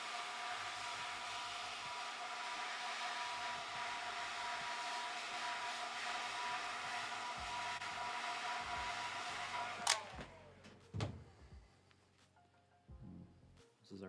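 A heat gun blows a steady, loud whooshing roar while shrinking heat shrink tubing over a USB cable, running continuously for about ten seconds before cutting off, leaving quieter handling clicks and rustles.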